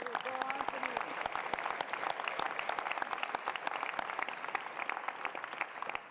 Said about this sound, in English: Let's clap for Anthony.